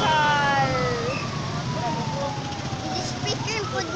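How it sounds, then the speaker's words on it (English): An ambulance siren at a tricycle and motorcycle accident scene in the Dumaguete area, wailing tones sweeping down and fading into the distance over crowd noise and nearby chatter. "Oh, there you go, the ambulance. Going already to the hospital."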